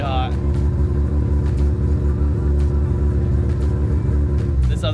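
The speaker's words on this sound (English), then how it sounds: "We're warming up the car right now" An old JDM race car engine idles and warms up at an Optima Ultimate Street Car event, a steady, loud, low rumble running throughout beneath a speaking voice.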